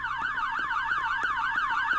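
Wailing electronic siren in the Roblox game Brookhaven, a fast two-tone yelp sweeping rapidly up and down, loud and steady with no voices over it.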